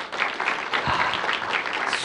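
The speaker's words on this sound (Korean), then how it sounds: "박수 한번 주세요." Church congregation at a Wednesday service applauding a member, a short, steady patter of many hands, moderately loud and continuous, without speech.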